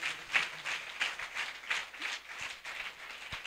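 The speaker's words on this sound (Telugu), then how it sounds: "వారికి గట్టిగా ఒకసారి చప్పట్లు కొట్టండి." An audience at an outdoor Christian gospel meeting claps together in steady, moderately faint applause that swells and eases in rhythmic waves across the whole stretch.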